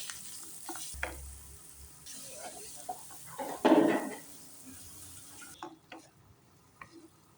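Chillies fry on a low flame in a pan for a lemon-peel pickle, giving a soft, steady sizzle with occasional light scrapes and clinks from stirring.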